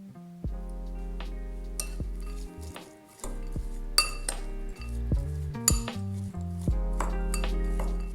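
Chopped walnuts, sugar and flavoring are mixed in a bowl, giving scattered clinks and scrapes of a utensil against the bowl over a steady low hum, with no talk.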